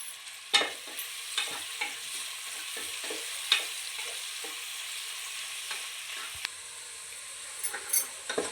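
Onions sauté in a pan with a little salt, giving a soft steady sizzle broken by occasional scraping stirs of the spoon against the pan, close and fairly quiet.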